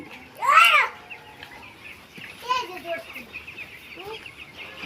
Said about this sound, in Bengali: এখানে মুরগি আছে 1000 পিস মুরগি আছে। আজ 10 দিন বয়স।